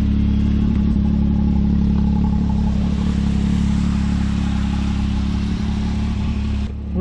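A 2021 Can-Am Maverick X3 X RS Turbo RR side-by-side, 195 hp, pulls away on sand dunes with a loud, close, steady turbo engine drone and clattering rumble that builds slightly, no talking.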